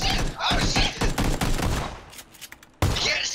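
Rapid bursts of gunfire fill a match of PlayerUnknown's Battlegrounds, loud and dense at first, then thinning to scattered shots before another loud burst breaks in near the end.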